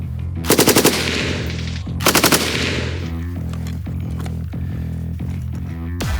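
A machine gun fires two short, loud bursts close by, each a rapid string of sharp reports, followed by quieter clicking and mechanical handling of the weapon.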